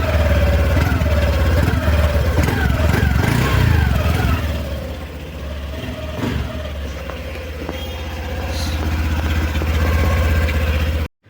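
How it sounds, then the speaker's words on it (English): A 2025 Honda Activa 110cc scooter engine runs nearby, revving up and settling into a steady idle beat before cutting off abruptly at the end. "now you get the engine spec and the engine beat of the new 2025 model"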